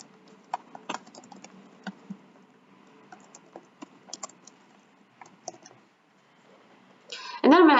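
A computer mouse clicks while building a Microsoft Forms survey, sounding as scattered light, crisp clicks at irregular intervals in a quiet room. A voice begins speaking at the very end.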